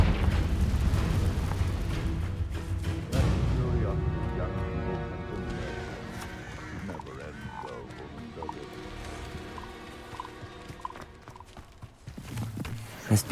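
Confringo fire spells explode in the Hogwarts Legacy video game, with a heavy booming blast early on and another burst near the end over a dense bed of game music and effects.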